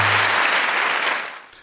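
Audience applause at a Catalan talk on mental and social health, a dense burst of clapping from a crowd that holds steady and then tapers off over about a second and a half, with no voices.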